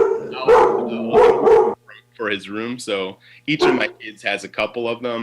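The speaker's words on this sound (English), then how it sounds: "you could probably hear my dog barking in the background." A dog barks in the background of a home interview, the barks faint and intermittent beneath steady close talk from a man.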